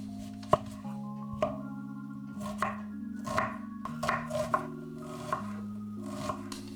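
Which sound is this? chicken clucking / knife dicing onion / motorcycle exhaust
knife dicing onion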